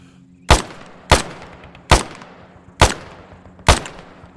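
Covering gunfire in the military shooter game ArmA 3 comes as five loud, sharp single shots, spaced roughly half a second to a second apart. Each crack is followed by a short decaying echo, with no voices.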